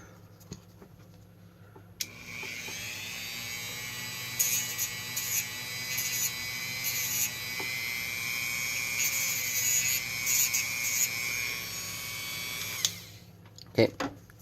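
A Dremel rotary tool sands down a blade with a loud, steady high-pitched whine that lasts about eleven seconds, broken by brief load changes, then stops as a few handling clicks follow.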